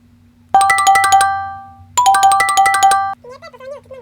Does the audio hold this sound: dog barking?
no